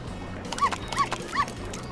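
A cartoon dog in a doll animation gives three short, evenly spaced whimpering yelps over a faint background, with no speech.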